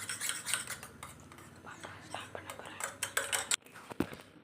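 A utensil beats omelette egg batter with salt in a bowl, producing quick irregular clinks and scrapes against the bowl, close up, with faint soft voices at times.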